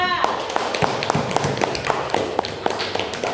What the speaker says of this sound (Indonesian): Beri aplaus untuk kelompok 2.